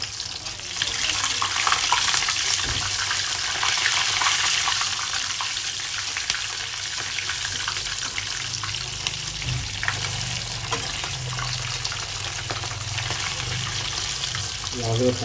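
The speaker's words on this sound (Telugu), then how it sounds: "స్టవ్ తగ్గించి పెట్టుకోండి, ఎందుకంటే మంచిగా ఉడుకుతుంది అన్నమాట, లోపల కూడా మంచి ఫ్రై అవుతుంది" Fish frying in oil in a pan over a lowered stove flame, a steady close crackling hiss that runs the whole time with small pops and some faint low background noise.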